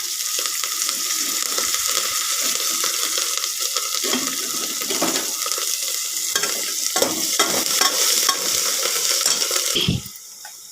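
Avakaya khichdi with fresh coriander frying in a pan, a loud continuous sizzle with scraping stirs and clatter that stop abruptly near the end.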